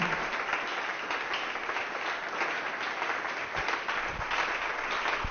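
A church congregation applauding to welcome the pastor, dense sustained clapping from many hands filling the hall at an even level with no break.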